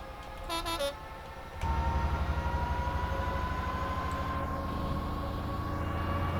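A Class 66 diesel locomotive in a train simulator opens up to full throttle after a short two-tone horn blast, its deep engine throb surging in and then droning steadily and loud, with no talk over it.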